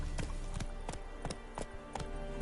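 Roach the horse galloping in The Witcher 3, hoofbeats thudding in a steady repeating clip-clop rhythm, close and clear over a low ambient bed.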